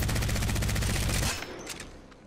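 Rapid automatic gunfire from an Apex Legends weapon fired in a steady stream while recoil is pulled down, loud and close, cutting off abruptly and leaving a short fading tail.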